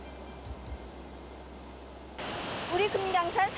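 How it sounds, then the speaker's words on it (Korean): A two-tier waterfall in the Inner Kumgang area of Mount Kumgang, North Korea, hisses as a steady wash of falling water, moderately loud and continuous, and a voice talks over it in the last second or so. "우리 금강산 4대 비용폭포의 하나인 어경폭포입니다."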